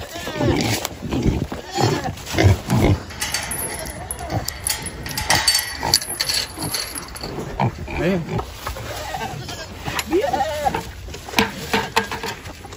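Farm pigs grunting and squealing close by amid other livestock cries, loud and busy, with people talking over them.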